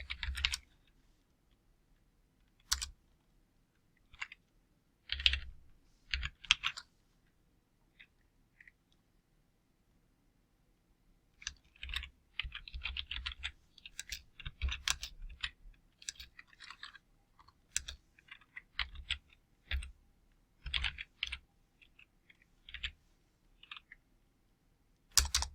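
Intermittent bursts of keyboard typing while coding, close and clear, with pauses between flurries of quick key clicks; no voices.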